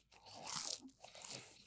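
A crunchy footlong churro from Subway is bitten into up close, giving a crisp, crackling crunch followed by a couple of softer chewing crunches in a quiet room, with no talking.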